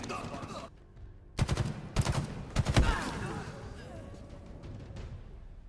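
Bursts of gunfire in a shooter video game: several loud, rapid volleys crack out in a cluster, then fade into quieter game ambience, with a voice talking faintly in the background.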